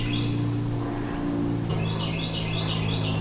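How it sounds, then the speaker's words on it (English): Birds chirping outdoors on a pleasant day, a few light high tweets coming and going in the background over a steady low hum. "Can you hear those birds chirping?"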